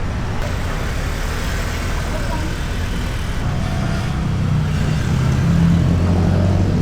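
A motor scooter on a test ride after a Sun Racing CVT upgrade, its engine running steadily beneath continuous road and traffic noise and growing a little louder toward the end.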